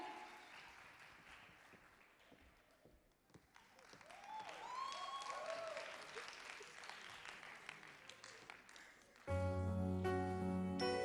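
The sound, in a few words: audience applause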